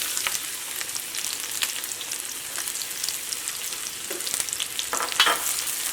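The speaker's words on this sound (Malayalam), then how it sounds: "ഇത് മൊരിഞ്ഞിട്ട് നല്ലൊരു ഗോൾഡൻ കളർ ആവണം, വഴറ്റിയിട്ട് എടുക്കണ്ട, നന്നായിട്ട് മൊരിച്ചിട്ട് എടുക്കുക." Chopped onion with crushed ginger and garlic frying in hot oil, a steady close sizzle with crackling bursts and occasional spatula scrapes throughout.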